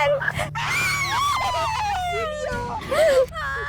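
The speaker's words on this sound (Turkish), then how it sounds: "Bağıran kız geldi bağıran kız." A girl screams loudly and sustained inside a horror maze attraction, her shrill wavering cries rising and falling over a steady low hum, with other people's voices mixed in.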